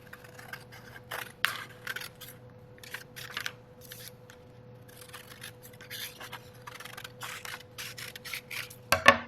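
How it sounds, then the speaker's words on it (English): Scissors snipping through paper along dotted lines, a quiet series of short crisp cuts and rustles close by, with a steady faint hum behind and a louder rustle at the end. "So I'm going to cut along the dotted lines here."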